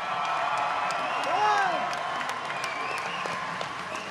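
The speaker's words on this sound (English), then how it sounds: "they both deserve another round of applause" Applause and cheering from a boxing crowd at a championship fight, a steady wash of clapping that swells slightly mid-clip, with voices and a whistle-like tone over it.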